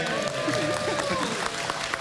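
A studio audience at a Thai political talk show claps and cheers in a steady, dense wash of applause that lasts throughout, fairly loud and close.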